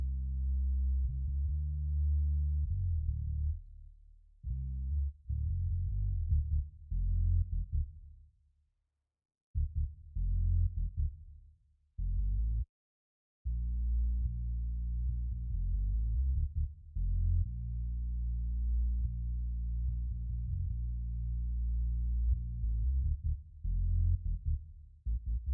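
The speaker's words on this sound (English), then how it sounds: "Here's our DI and amp going to our synth bass just 100 hertz below." Bass guitar DI and amp signal layered with a synth bass tuned to sit 100 Hz lower, playing deep sustained low-end notes with brief gaps, loud and alone with no talk.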